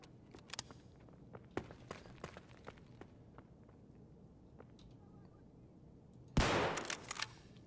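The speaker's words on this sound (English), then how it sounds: "Three shots with this trash gun." Sharp gunshots from Escape From Tarkov, a scattered series of distinct cracks spread across several seconds, followed by a louder, denser burst of rapid fire near the end.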